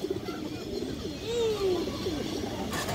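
A large female pigeon coos softly up close, with a few low, drawn-out notes over faint background noise.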